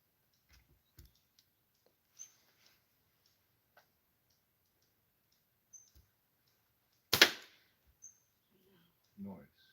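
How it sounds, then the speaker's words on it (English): An arrow strikes a cardboard target with a single sharp, loud smack, set among scattered faint clicks and ticks and a soft thump near the end in otherwise quiet surroundings. "That was the sound of cardboard"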